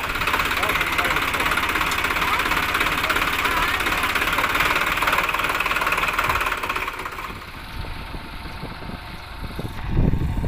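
Tractor working with a rotavator, a loud steady engine drone with rough knocking vibration that eases off toward the end as someone talks over it.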